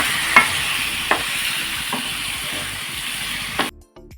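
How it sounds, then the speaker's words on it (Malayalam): Marinated chicken stirred in a hot frying pan, a steady sizzle and hiss with a few sharp scrapes of the spoon, close and alone before cutting off abruptly near the end. "ചിക്കൻ ഇട്ട് കൊടുക്കാം എന്നിട്ടെല്ലാം നല്ലവണ്ണം ഒന്ന് ഇളക്കി യോജിപ്പിക്കാം"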